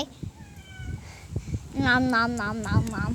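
A house cat meows in the background, with a long drawn-out wavering meow in the second half after brief talk and playful voice sounds.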